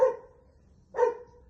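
A dog barks twice, close and fairly loud, two short separate woofs about a second apart, with no other sound around them.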